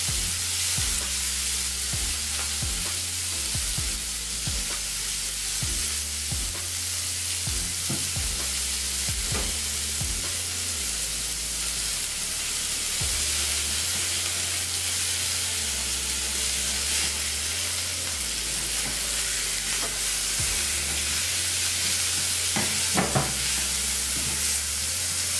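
Zucchini spaghetti sears in a pan over a thin drizzle of olive oil, giving a loud, steady sizzle and hiss throughout, with occasional stirring scrapes and low hum underneath.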